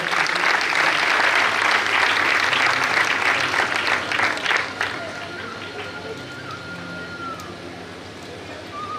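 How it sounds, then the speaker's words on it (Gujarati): Sustained crowd applause at a community award ceremony, loud and dense for the first five seconds and then thinning to scattered clapping with light background murmur. "મિત્રો, આ જેમનું પણ નામ અત્રે એના ઉત્સાહ જોરદાર તાળીઓથી એમને વધાવીએ."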